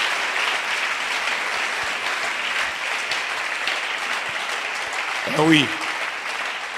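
Church congregation applauds during an offering of acclamation, a dense, steady wash of clapping that runs through the clip while a voice speaks briefly over it near the end.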